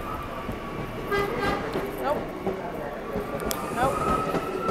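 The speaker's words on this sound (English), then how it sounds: "I think this is the train I'm gonna take" A passenger train moves through a station with an airport-trip traveller waiting nearby; rumbling wheels and squealing rails sound close and fairly loud, and a person speaks briefly over them.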